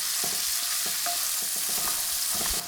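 Minced garlic and ginger sizzle in olive oil, a steady close crackle with repeated spoon or spatula taps and scrapes against the pan, no voices over it.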